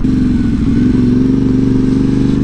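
A Yamaha Tenere 700 with a modified stock exhaust rumbles loudly at close range while being ridden, its engine holding a steady, throbbing drone with no speech.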